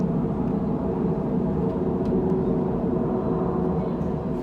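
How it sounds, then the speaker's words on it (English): Steady engine roar of an airplane passing overhead outdoors, a continuous low rumble holding at a constant level throughout, with no talk over it. "trying to wait for this plane to go by."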